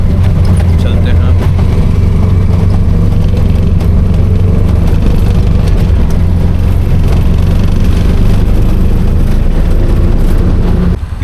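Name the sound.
auto rickshaw engine while riding in Ujjain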